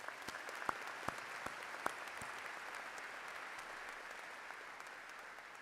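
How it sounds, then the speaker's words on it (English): A commencement audience applauding at a fall graduation ceremony, a steady wash of many hands clapping from a distance, with a few sharper, closer claps standing out near the start. "Can we give each other a round of applause?"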